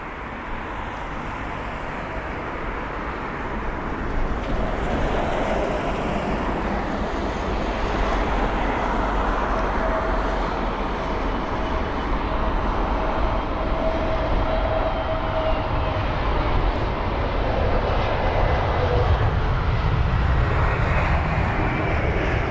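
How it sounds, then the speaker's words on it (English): A British Airways A320neo arriving from Innsbruck roars in on approach to London Heathrow as a steady, broad jet rumble that swells gradually over about twenty seconds and stays fairly distant. "BA685, the British Airways A320neo from Innsbruck"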